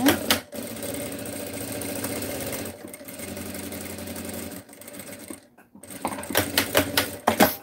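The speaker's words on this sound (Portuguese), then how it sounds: "Essa aqui eu vou passar uma costura aqui em cima, um pé de máquina também." Sewing machine stitching a fabric cutlery holder, running in steady rapid mechanical bursts with brief pauses between runs, close and fairly loud.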